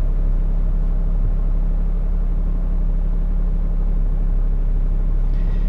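Turbocharged B-series Honda Civic engine on a dyno, a steady loud droning rumble held throughout without a clear rev sweep.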